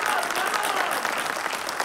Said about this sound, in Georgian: ხუხარი აპლოდისმენტების ღირსია ყოველივე ეს.